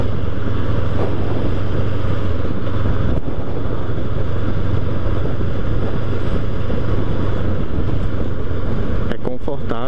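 Steady engine drone and rushing wind from a 2021 Honda CB 500X motorcycle cruising on a highway, loud and continuous throughout, with a short bit of talk at the very end.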